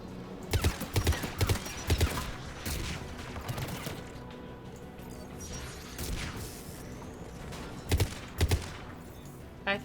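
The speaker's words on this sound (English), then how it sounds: "AA guns ahead of us." Heavy anti-aircraft gun bursts in the Mass Effect 3 game, mission The Homeworld's Sky, booming as repeated loud thuds in short clusters over a constant rumbling battle backdrop, with no talk.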